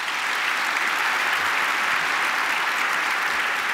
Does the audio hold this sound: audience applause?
yes